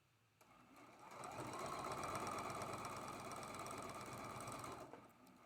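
Sewing machine stitching the connecting seam between quilt blocks, a continuous whirring, buzzing run of about four seconds that ramps up and stops, heard close and fairly quiet.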